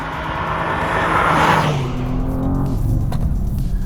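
A new BMW M2 in M Dynamic mode accelerates hard out of a corner on a road, its engine note climbing loudly up close, then easing and building again as it pulls away.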